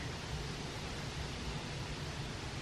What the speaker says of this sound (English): You hear the wind through the trees?